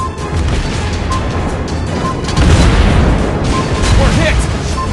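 A shell strikes the player's own warship in World of Warships Blitz during a tournament match, a dense sustained roar of booms and crashes throughout, swelling louder midway, with game voice callouts over it.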